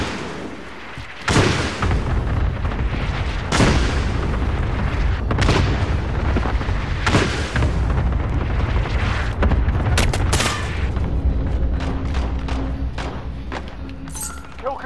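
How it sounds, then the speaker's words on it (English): A cluster strike in the video game Call of Duty: Modern Warfare lands as a series of heavy, loud explosions, sharp booms repeating every second or two over a rumbling battlefield, with voices talking underneath. "Enemy cluster strike incoming."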